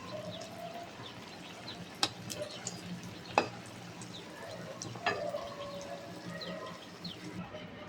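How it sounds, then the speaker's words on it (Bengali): Raw banana kofta balls fry in a pan with a faint, continuous sizzle, broken by a few sharp utensil taps against the pan. "ওটা উল্টা একটু ভেজে নিচ্ছি।"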